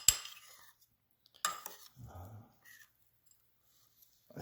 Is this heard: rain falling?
no